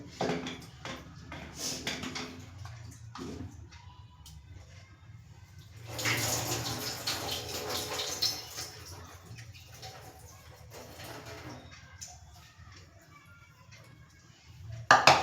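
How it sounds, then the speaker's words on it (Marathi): Water splashes and swishes in a bowl as moth beans are rinsed by hand in two changes of water, with bursts of pouring and soft clinks, close and intermittent. "आता मी मटकी दोन पाण्यामधनं धुवून काढते"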